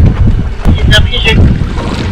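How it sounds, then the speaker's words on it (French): Water rushing along the hull of a Figaro racing sailboat moving in light wind on a flat sea, a steady close wash with wind buffeting the microphone and a few brief splashy hisses. "On entend le bruit de l'eau qui coule sur la coque. Ça veut dire que le bateau avance."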